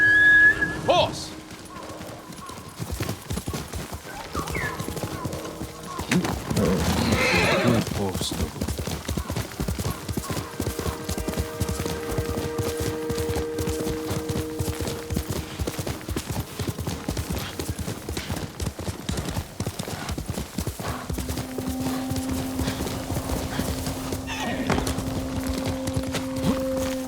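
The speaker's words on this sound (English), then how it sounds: "Horse!" A horse in the video game Ghost of Tsushima gallops with loud, steady clip-clop hoofbeats, briefly neighing near the start, over a game music score with sustained tones.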